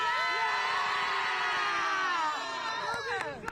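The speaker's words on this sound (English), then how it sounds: "go ahead and give us one Sunnyside High School cheer" Members of the Sunnyside High School marching band shout a cheer together outdoors at a lighted farm implement parade at night. The loud, sustained group yell slides downward and breaks into scattered shouts and sharp claps at the end.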